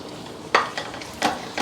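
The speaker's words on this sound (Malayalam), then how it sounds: "ഇതങ്ങോട്ട് സെറ്റിൽഡ് ആകുന്നതിന് മുമ്പേ തന്നെ ഒന്ന് ഇളക്കി കൊടുക്കാം" Salted beaten egg frying in a pan as it gets stirred, soft sizzling broken by three or four sharp scraping strokes of a spatula against the pan, close and clear, with no voices.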